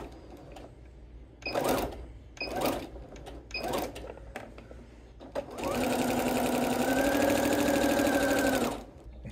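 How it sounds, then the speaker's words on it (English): A few short bursts of machine clatter, then a sewing machine stitches continuously at high speed for several seconds before stopping. "We'll say goodbye to the sewing machine."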